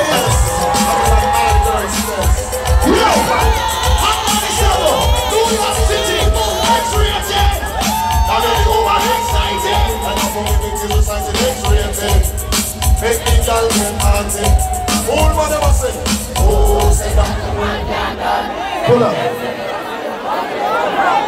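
A crowd of women at an outdoor dancehall show in the Bahamas cheering, screaming and shouting continuously, loud and dense with whoops rising above the din, while an MC talks over them and the noise fades near the end.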